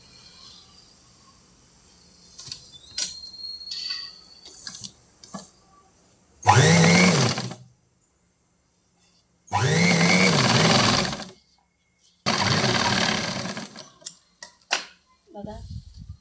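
A sewing machine stitches the hem strip of semi-Patiala pants in three separate bursts of rapid, even whirring, each lasting one to two seconds, with quiet handling sounds and short pauses between them.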